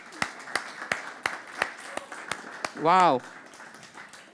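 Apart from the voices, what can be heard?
church congregation applauding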